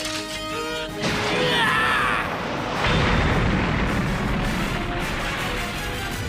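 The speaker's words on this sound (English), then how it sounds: "Explosion!" A loud cartoon crash and booming explosion burst out after a brief musical lead-in, rumbling and crackling for several seconds before fading slightly.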